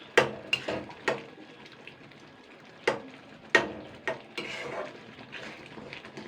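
Potatoes being mashed with a spoon against a pot of simmering masoor dal with Malabar spinach (puishak), scattered knocks and scrapes of the utensil at an uneven pace, close and fairly quiet.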